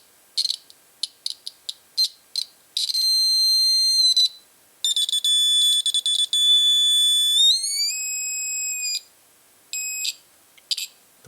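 A series of electronic buzzer tones from a wire loop game kit, short bleeps then longer sustained tones that shift higher in pitch, stopping and restarting, with no talking.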